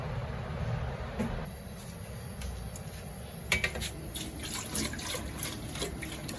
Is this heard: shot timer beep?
no